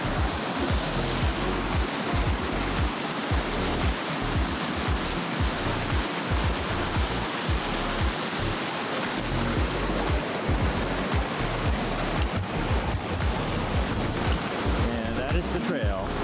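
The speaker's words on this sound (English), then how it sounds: "New Zealand is just covered with beautiful waterfalls." Roaring waterfall beside a trail in New Zealand's Nelson Lakes area, a loud steady broadband rush of falling water that continues without a break for the whole stretch.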